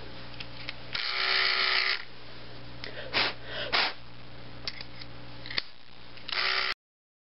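Electric clippers shave fake fur, the motor's steady buzz running throughout and swelling into louder, harsher bursts each time the blades bite into the pile, close up, then cutting off abruptly at the end.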